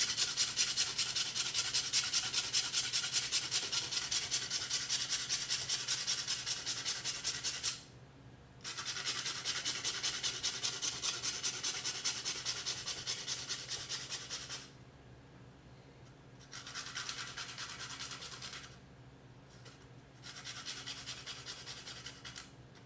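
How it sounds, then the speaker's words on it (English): Hash rasped onto parchment paper, a close steady scratchy grating in long continuous strokes with a few short pauses between passes. "and rasping it onto this parchment"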